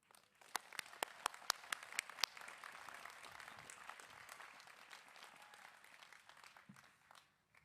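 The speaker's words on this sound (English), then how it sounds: "Please join me in extending a very warm welcome to the 2014 Sixth College commencement speaker, Christopher Biele." Audience applause welcomes the commencement speaker at the 2014 Sixth College ceremony. A few sharp, close claps ring out at first, then a softer, wider crowd clapping that fades toward the end.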